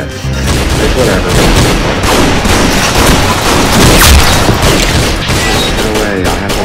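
Rapid gunfire in a video game, a dense burst of loud overlapping shots with booming impacts, lasting throughout and heard alone without talk.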